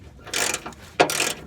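Wrench removing a part, a transmission crossmember, from a Chevrolet C10 pickup truck: two close bursts of quick ratcheting clicks, heard alone.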